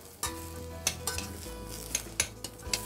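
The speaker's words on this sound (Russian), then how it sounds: "Шампиньоны впитали в себя все масло, начинают обжариваться." Button mushrooms frying in butter with garlic in a pot, a steady close sizzle broken by repeated sharp scrapes and clinks of a utensil stirring them, no voices.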